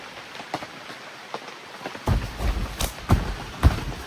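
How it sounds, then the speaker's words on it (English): Rain falling on a camping trip in the Wisconsin Northwoods, scattered drops tapping close by, turning heavier and denser halfway through with a low rumble and sharp individual splats. "But we got more rain"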